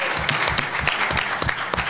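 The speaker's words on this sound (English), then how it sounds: "Let's give these young people, these leaders, a round of applause." Loud, close applause from a conference audience honoring young leaders at a panel, a thick wash of many hands with heavier claps pulsing through it.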